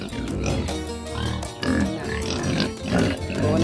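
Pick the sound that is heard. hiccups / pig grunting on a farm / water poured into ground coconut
pig grunting on a farm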